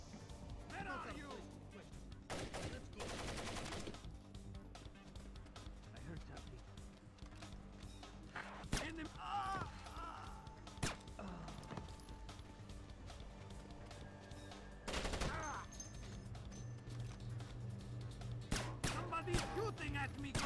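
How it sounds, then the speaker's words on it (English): Gunfire in the stealth game Splinter Cell, sharp scattered shots and crashes spread across a long stretch of game sound, with a brief dense burst near the start and another partway through, under a voice and game dialogue. "Somebody's shooting at me, goddammit!"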